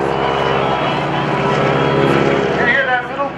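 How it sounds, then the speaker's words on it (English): Vintage piston airplane engine droning loud and steady during a victory roll at a naval air station airshow, with a brief stutter near the end; a voice talks over it. "You hear that little blip in the engine."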